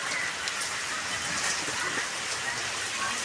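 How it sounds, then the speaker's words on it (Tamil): Steady rain falls in a dense, even hiss, with raindrops pattering on a surface throughout. "மழை பெய்யுதா இங்கே"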